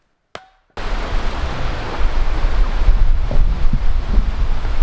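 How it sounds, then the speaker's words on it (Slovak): Strong wind roars against the microphone in a forest setting, a sustained loud rumbling gust that builds after a brief click and short silence, with no speech. "Poriadny vietor sa spustil."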